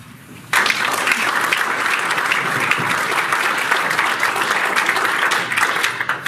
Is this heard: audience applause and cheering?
yes